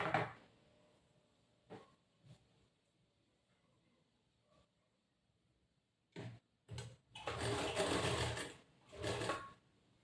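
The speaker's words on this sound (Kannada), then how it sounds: "ಆ ಕಾಲಿಂಜಿಗೆ ಫಸ್ಟು ಒಂದು ಸ್ಟಿಚ್ ಮಾಡ್ಕೊಬೇಕು" A sewing machine stitches the collar of a boat-neck blouse in a quiet room, with a few faint clicks early on, then short bursts and a longer running stretch of stitching near the end.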